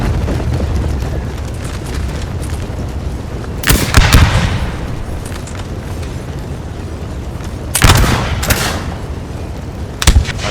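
Distant battle din from Napoleon Total War: bursts of massed musket fire from a multiplayer clash between Danish and Swedish armies crack out in three separate volleys over a steady low rumble, with no talk.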